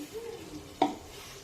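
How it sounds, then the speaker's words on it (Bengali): White cooking oil poured into a hot wok while preparing basanti pulao gives a single short, soft sizzle in a quiet kitchen, with no talking. "আমি কড়াইটা বসিয়ে দিয়েছি। এখন আমি সাদা তেল দিয়ে দেবো পরিমাণ মতন"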